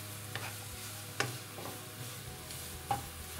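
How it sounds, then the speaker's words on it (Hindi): Chopped onions sautéing in heated oil for eggplant raita, a soft, low sizzle running throughout, broken by a few sharp clicks of a spoon stirring the pan, close but quiet. "अब ये हीट अप हो गया ऑयल, इसमें हम डाल देंगे सारी प्याज। और ज़रा इसको सौते करेंगे।"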